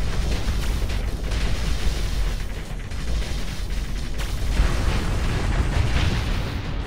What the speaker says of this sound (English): Fire the torpedoes.